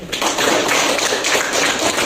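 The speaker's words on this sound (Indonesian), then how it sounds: "Tepuk tangan dulu." Students in a classroom clap for a classmate in a brief, dense burst of many hands, close and loud for about two seconds.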